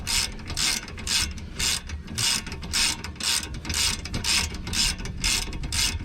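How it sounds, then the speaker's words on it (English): A ratchet wrench clicks in quick, even bursts while reinstalling the front brakes and rotors on a 2014 Dodge Charger SXT, about a dozen close, crisp ratcheting strokes with brief pauses between them. "All that ratcheting back in."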